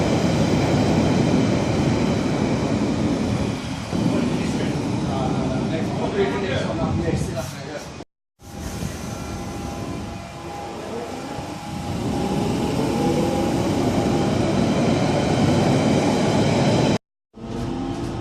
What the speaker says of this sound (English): This is a Central Line train to Ealing Broadway